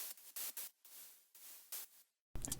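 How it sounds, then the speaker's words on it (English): Rhythmic bursts of hissing white noise used as a layer in an electronic remix track, gated into short pulses, faint and alone, ending with a brief louder burst. "then this is just some kind of white noise"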